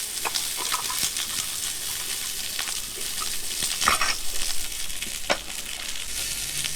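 An omelette fries in a pan on a Trangia Mini camp stove, giving a steady close sizzle and crackle with occasional louder pops and scraping stirs, and no talking.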